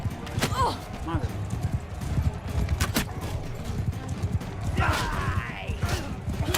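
Horse hooves clip-clop in rapid galloping rhythm during a Bannerlord battle, with a high whinny rising briefly, all under steady battle noise while someone talks over it.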